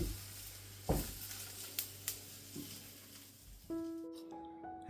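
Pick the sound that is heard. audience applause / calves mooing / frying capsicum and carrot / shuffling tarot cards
frying capsicum and carrot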